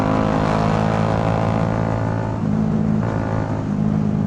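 A Bajaj Dominar 400 single-cylinder motorcycle fitted with an SC Project exhaust, riding at night in Batangas, gives a loud steady droning engine note with a throaty low hum, dipping slightly midway before holding on.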